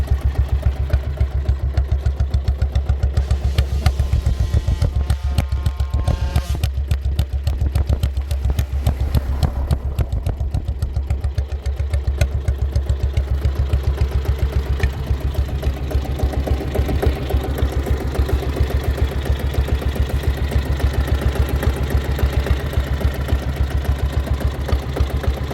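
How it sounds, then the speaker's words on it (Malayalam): A diesel Royal Enfield Bullet motorcycle sits idling with a steady, loud, uneven thumping beat from its single-cylinder engine, running continuously with no voices over it. "ലോകത്തിൽ തന്നെ ഏറ്റവും കൂടുതൽ വിറ്റഴിക്കപ്പെട്ട ഡീസൽ മോട്ടോർ സൈക്കിൾ"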